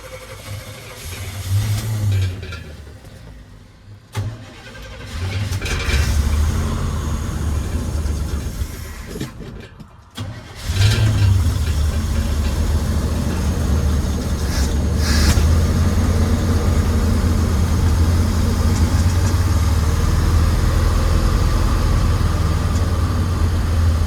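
Chevy big-block 454 V8 fitted with an Edelbrock carburetor runs nearby, a deep rough rumble that cuts out briefly twice, then settles into a louder, steady idle for the rest of the stretch, with no talk.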